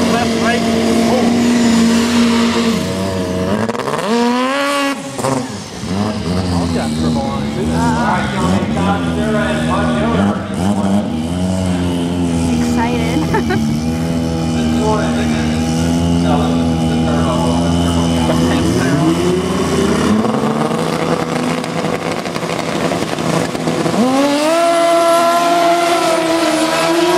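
Racing engines from a motorcycle and a snowmobile in a head-to-head run, roaring loudly and continuously with pitch sweeps as they rev, under excited talk.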